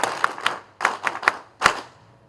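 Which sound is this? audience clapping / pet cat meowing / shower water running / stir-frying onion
audience clapping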